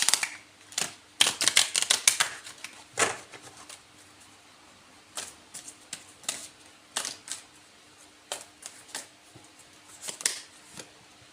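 Crisp bursts of tarot card shuffling and riffling come in quick clusters, with pauses between them, close by and fairly quiet.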